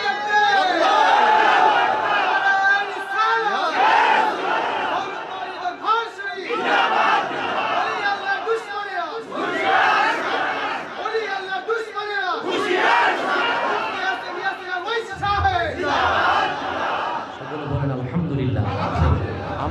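A large crowd at an Islamic religious gathering in Bangladesh chants a slogan in loud, repeated call-and-response bursts, with voices close and dense throughout.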